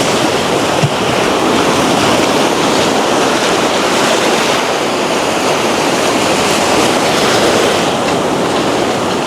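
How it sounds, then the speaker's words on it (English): Ocean surf on a beach in the early morning, a loud continuous wash of breaking waves with steady roar and no voices. "Early morning, walking the beach."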